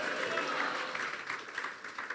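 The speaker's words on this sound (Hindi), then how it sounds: "जोरदार तालियां बजाएंगे खुदा के पाक वचन के लिए।" A church congregation applauds during a sermon, a sustained wash of many hands clapping together that fills the hall at steady volume and begins to taper off at the end.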